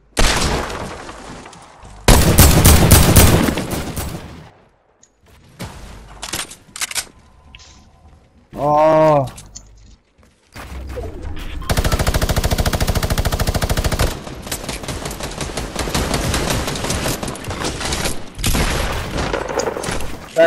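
Gunfire in the video game Fortnite comes as loud bursts of rapid automatic shots and single cracks, separated by quieter gaps with other in-game effects.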